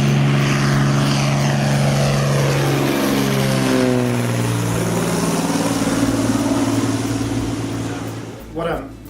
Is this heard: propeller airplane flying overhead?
yes